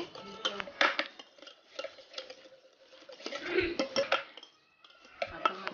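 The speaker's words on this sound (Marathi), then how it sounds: "त्याला मी एका हँड बीटरच्या मदतीने व्यवस्थित फेटून घेणार आहे।" Butter being beaten by hand with a hand beater for a pineapple cake, giving close, irregular scraping and clinking against the bowl in uneven bursts, with brief pauses.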